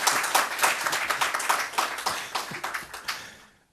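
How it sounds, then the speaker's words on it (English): An audience applauds at a formal address, a dense round of clapping that holds steady for a few seconds and then fades out quickly. "This is where the applause is deserved."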